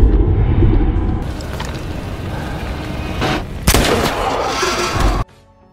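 Gunfire in the 2017 horror film The Ritual sounds as loud, booming shots over a dense, rumbling film soundtrack, with a heavy blast near the middle before the sound cuts off abruptly.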